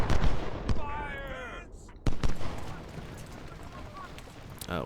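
Cannon and rifle fire in Ultimate General: Civil War, sharp booms and cracking shots in an irregular burst over a rumbling battlefield background, with a short whistling sound early on.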